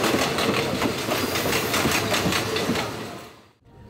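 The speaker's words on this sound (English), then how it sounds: "So we made it onto the train." Steady rumbling overnight sleeper train noise from onboard, Bangkok to Hat Yai, with rhythmic clacking of wheels on rails, loud and continuous, fading out near the end.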